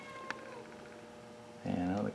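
A house cat meows near a 1959 Axeman Anderson 130M coal stoker boiler, a short mewing call, then a louder drawn-out meow at the end over a low steady hum of machinery.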